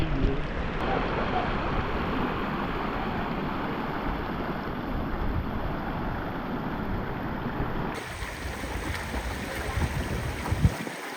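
Water rushing at Hathni Mata waterfall in Jambughoda, a steady broadband roar that holds loud and constant throughout, with a brief shift near the end.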